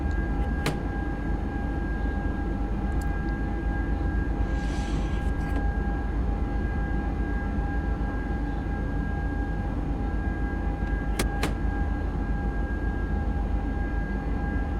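A DB RB145 regional train in Train Sim World 6 gives a steady, unbroken rumble with faint sustained tones and a couple of sharp clicks, with no voices.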